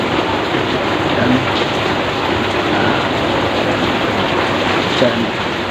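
Steady, heavy rain falls in Duren Sawit, East Jakarta, in the early morning, a loud, continuous wash of water with no pauses, faint background sounds barely rising above the downpour.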